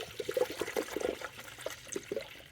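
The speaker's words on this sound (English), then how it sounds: "Now with the chemical in, I'm going to add distilled water on top of that." Distilled water is poured through a funnel into a Subaru radiator during a coolant flush, giving soft, close gurgles and glugging trickles in irregular bursts.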